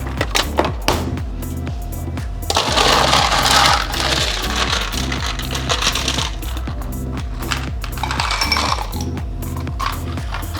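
Ice cubes clatter and drop into glasses while a salty dog and gin mule are being prepared, a rapid run of close, hard clinks and rattles across the whole stretch with no talking.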